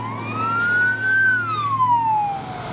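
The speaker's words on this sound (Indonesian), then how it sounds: "Dan ini ada bus Chandra full telolet" A Chandra bus sounding its telolet horn, a single loud melodic tone that rises, holds and slides down over about two seconds against steady road and engine noise.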